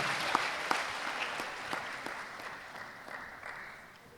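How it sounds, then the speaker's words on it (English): Applause at a school graduation ceremony, a fairly faint, even patter of clapping from an audience that gradually thins out over a few seconds. "Can we please give a round of applause to this school?"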